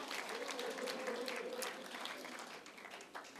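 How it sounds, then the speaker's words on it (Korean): An audience at a political party members' debate forum in Seoul applauds in a steady, fairly faint wash of clapping that holds for a few seconds before tapering off. "힘차게 박수 한번 쳐주십시오."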